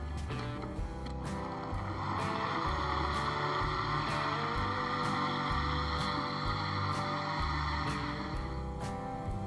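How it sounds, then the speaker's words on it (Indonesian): Blender whirring through avocado with 500 ml of water for an Indonesian es doger, a steady dense motor roar with small periodic surges, loud and continuous with no talk. "Tinggal kita blender sampai halus."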